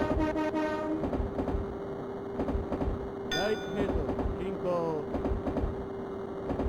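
Train running in the Densha De Go video game on Sega Saturn: a steady motor hum with rhythmic rail clicks and brief chimes, heard under someone talking.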